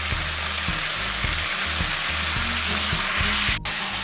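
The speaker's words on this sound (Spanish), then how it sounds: "Con mucha energía seguiremos salteando para que se mezclen bien todos los aromas" Peruvian lomo saltado is stir-fried energetically in a frying pan, giving a loud steady sizzle. Rhythmic scraping and tossing strokes run underneath, with a brief break near the end. Nobody speaks.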